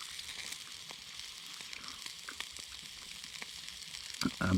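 Steak sizzling over a pine wood fire at a woodland camp, a steady soft crackle and hiss with scattered pops, a louder burst near the end, and no talking.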